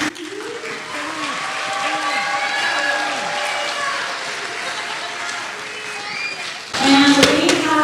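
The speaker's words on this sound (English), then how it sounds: "Give them a round of applause." Audience applause for a middle school all-city jazz band at a spring concert, a broad wash of clapping mixed with crowd noise and talk, swelling louder near the end.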